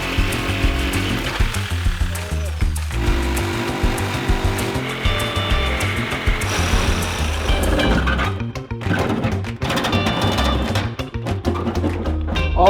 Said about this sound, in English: but now it's time for the Sawzall.